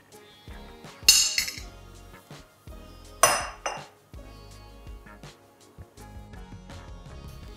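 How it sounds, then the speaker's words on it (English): Yeast is being stirred into a naan dough mixture in a bowl, making sharp clinks and clatters of a utensil against the dish, with a few louder knocks and no talking. "I'll stir all of it together"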